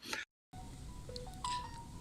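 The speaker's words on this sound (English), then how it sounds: "there go them notifications" Phone notification tones chime in short electronic beeps and pings, several brief tones scattered over a second or so after a cut to silence, heard faintly indoors.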